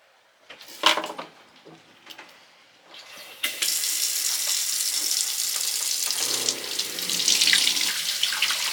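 Laundry washed by hand in a sink aboard a boat: a few clinks and splashes, then a tap runs steadily and loudly into the basin, with the water sound swelling near the end; no talking.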